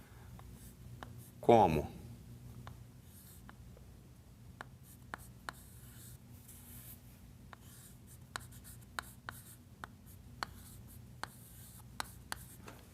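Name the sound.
writing on a board during a math lesson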